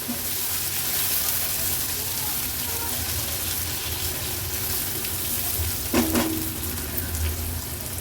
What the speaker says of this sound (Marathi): लो फ्लेमवर हा कांदा आपल्याला व्यवस्थित शिजवून घ्यायचा आहे